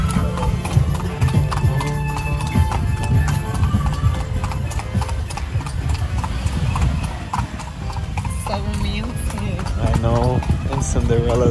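Hooves clip-clop in a steady rhythm as a horse-drawn carriage carries riders around Santiago de los Caballeros, close and continuous, with people talking over the hoofbeats.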